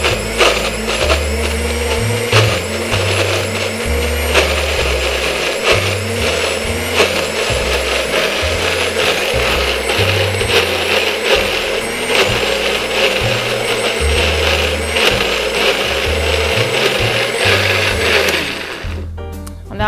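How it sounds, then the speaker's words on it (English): Kitchen blender running continuously at close range while blending candied ginger sauce, a loud, dense whir with small shifts in pitch that lasts nearly twenty seconds before winding down. "I'm going to put it on the blender"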